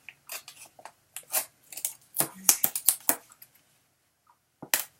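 Score tape peeled off a paper craft project, heard as a series of short crackly ripping and rustling bursts, close and fairly loud, with brief pauses between pulls and no talking.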